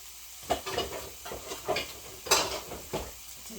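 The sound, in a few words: ham cooking in a pan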